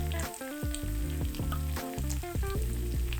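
Canned tomatoes frying in hot oil over onion, grated garlic and ginger for a coconut chicken keema curry, a steady close sizzle running throughout with no talk over it.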